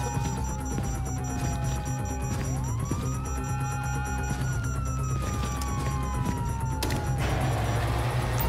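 Police sirens wail in the GTA 5 prologue, rising and falling in long sweeps, with a second siren joining and overlapping and the pair growing nearer over a rumbling background.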